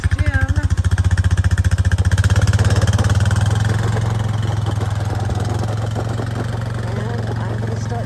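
A motorcycle engine idles steadily on a trail ride, its deep rapid pulsing loud and close and easing off a little as it settles. Voices talk faintly underneath.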